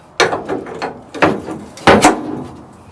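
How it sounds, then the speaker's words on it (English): A 3/4 socket on a breaker bar working a bolt on a 1958 Dodge Power Wagon 4x4 truck during teardown: three sharp metallic ratcheting clacks at steady intervals, loud and close, with no talking. "Let's see if this 3/4 socket and breaker bar will hold it."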